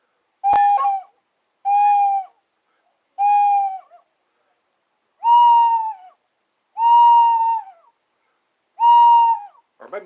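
A person whistling an imitation of an owl's hoot, six separate tonal calls spaced evenly with silent gaps between, each clear, close and moderately loud.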